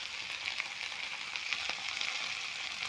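Leafy vegetables sizzle in a wok, a bright continuous crackling hiss with occasional stirring scrapes, quiet and close, with no talk.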